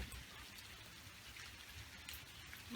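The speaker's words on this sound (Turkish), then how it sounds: "Geceden bu yana çok güzel bir şekilde böyle sicim gibi yağmur yağıyor" Steady rain falls continuously, a soft even patter of drops spread across the whole clip, with no voices.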